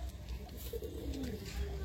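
An Andhra breed pigeon coos softly amid steady background noise and faint voices, a low, rolling call heard briefly.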